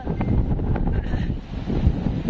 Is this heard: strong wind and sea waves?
yes